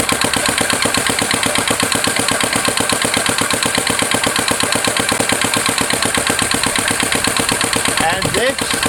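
A transparent four-stroke combustion engine on a test stand runs at 1000 RPM, producing a steady, rapid mechanical chugging with even rhythm, loud and close throughout.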